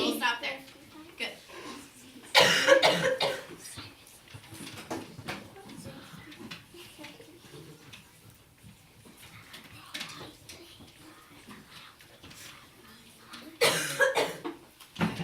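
Someone coughs during a spoken math lesson on multiples: two loud, close bursts of coughing, one early and one near the end, with talking in between.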